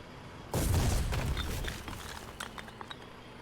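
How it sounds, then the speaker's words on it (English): A deep, close explosion booms in the Foxhole war game and rumbles away over about a second, followed by scattered faint clinks and small pops. "occasional explosions"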